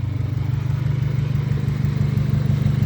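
Honda Civic CX engine running steadily at a low, rhythmic idle-like rumble, close and fairly loud, alone with no talk.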